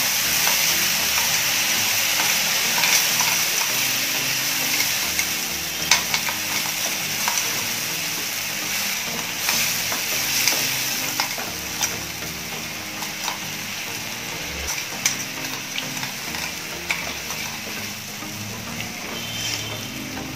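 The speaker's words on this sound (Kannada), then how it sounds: "ಈ ರೀತಿ ಎಣ್ಣೆಲಿ ಫ್ರೈ ಮಾಡ್ಕೊಂಡ್ರು ಆಗುತ್ತೆ" Green chillies frying in oil over a low flame for a village-style pachidi, giving a steady, close, even sizzle with small pops and occasional stirring scrapes, with no talking.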